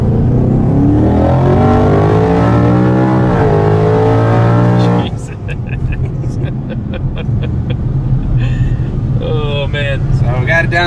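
Twin-turbo 1400 hp Ford Mustang launching in a roll race, a loud rising engine roar that climbs through gears, then shifts into a rougher burbling drone with turbo whistles and road noise, heard from inside the car.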